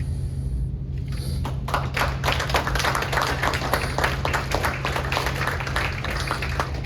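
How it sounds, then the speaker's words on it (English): An audience claps for several seconds after a poem reading at a school of the arts, dense and steady, with a constant low hum running underneath. "thank you for the applause between each poem"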